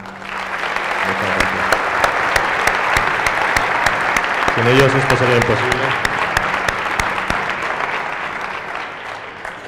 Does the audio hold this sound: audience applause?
yes